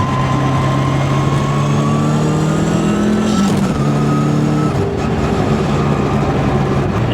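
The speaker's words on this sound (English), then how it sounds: "We're just gonna blip the cut like this and get through the shift." Dogbox-equipped car revving loudly up close, the engine note rising steadily then dipping briefly around a gear shift before climbing again, with no lift off the throttle.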